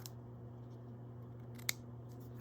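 Scissors trimming craft lace for a decorative cover, heard as a single faint snip over a steady low hum in an otherwise quiet room.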